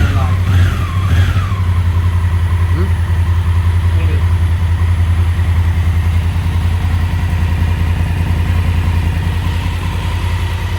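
A 2018 Honda Africa Twin CRF1000A motorcycle engine idles steadily and close by after an oil and filter change, with an even, throbbing low rumble from start to finish. Some speech may sit faintly under it.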